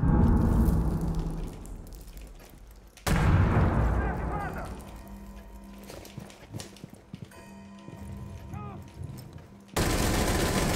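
Cluster charges go off in Rainbow Six Siege as two sharp, loud blasts, with crackling gunfire and scattered clatter in a quieter stretch between them.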